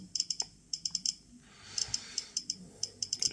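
A Geiger counter dosimeter measuring radiation gives irregular sharp clicks, sometimes spaced apart and sometimes in quick bunches, close and fairly loud, with no speech.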